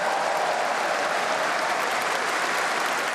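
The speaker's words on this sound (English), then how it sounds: "the roar of crowds across London" Crowds in London cheer and applaud for the proclamation of King Charles, a dense steady wash of clapping and crowd noise heard throughout at constant level.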